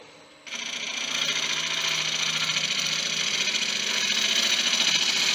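A tamarind bowl spins on a wood lathe after a brief quiet start, and a side bevel cut produces a steady, loud, continuous whirring hum with a rough scraping texture. No voices are heard.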